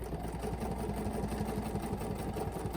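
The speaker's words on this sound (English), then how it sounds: "I'm going to bring my thread up right at the outside edge of this circle that I've already put in here." A quilting sewing machine stitches steadily along a ruler on a quilt block, giving a close, fast, even mechanical hum and rapid needle pattering with no talking.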